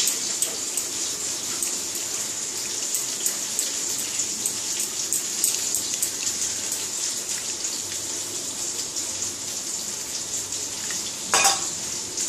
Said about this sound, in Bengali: মাছটা হয়ে গেছে ভাজা